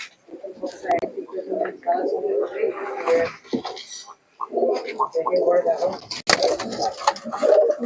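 Pigeons coo repeatedly close by in low, rolling phrases, with a pause partway through, while people talk over and between the calls and a few sharp clicks cut in.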